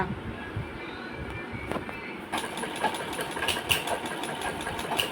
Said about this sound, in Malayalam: രണ്ട് ക്രോച്ചിൻ്റെ ലെങ്ത്തിൻ്റെ ഭാഗം നമ്മൾ സ്റ്റിച്ച് ചെയ്തെടുക്കാം